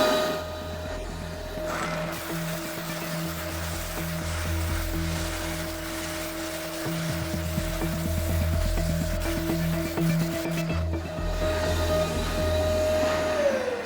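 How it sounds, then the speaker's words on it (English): Shop vacuum drawing dust away while a fiberglass bow limb for a Bare Bones kit bow is sanded, a steady close whine and airflow hiss running the whole time with rough sanding texture underneath. "For dust collection, I'm just using my shop vac"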